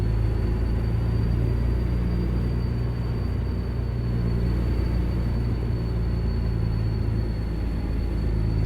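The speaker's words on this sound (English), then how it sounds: "We are driving the Legacy Kenworth W900." A Legacy Kenworth W900 truck engine in American Truck Simulator holds a steady, low droning rumble that stays even and constant the whole time.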